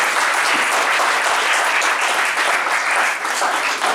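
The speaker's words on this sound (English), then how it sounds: "Please a big round of applause." Loud, dense applause from the audience at a keynote talk, steady clapping that fills the whole stretch without letting up.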